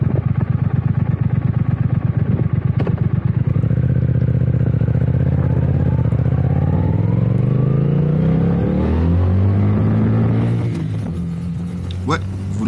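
A 2024 Triumph Speed Twin 1200 motorcycle engine thumps in a rapid, steady beat while riding, then pulls away loud and close with rising revs through several gear changes.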